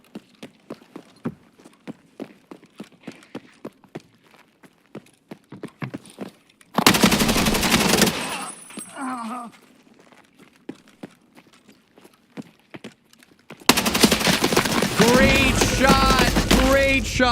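Gunfire in the shooter game Escape from Tarkov: sharp repeated shots and short automatic bursts, loud blasts in two dense stretches with scattered clicks and footsteps between, close to the listener.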